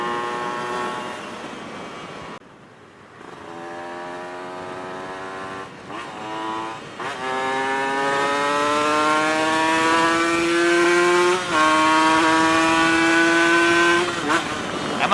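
Motorcycle fitted with a 42 mm KDX big-bore exhaust, ridden on the road: the engine drops briefly, then revs climb in repeated rising pulls, loud and close throughout.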